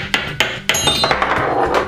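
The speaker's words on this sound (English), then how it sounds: "Time to hammer green." A few quick knocks of a toy mallet pounding a ball through a hole in plastic, followed by a ringing, jingly chime, close up.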